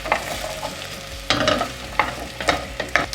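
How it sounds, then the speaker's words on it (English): Sweet potato cubes, garlic and onions are stirred in a hot pan, giving scraping spoon strokes in short bursts over a soft frying sizzle, close and moderately loud. "drop them together with the garlic and the onions in the pan. Give a good stir."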